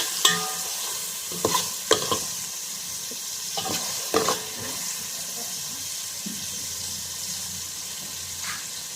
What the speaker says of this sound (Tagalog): nilalagyan natin sibuyas gisa na ng sibuyas so pupulahin natin para pa brown brown natin konti